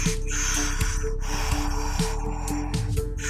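A three-part breathwork breath, filling belly then chest before exhaling, comes as a close, audible rush of air with snorting, gasping nasal breaths.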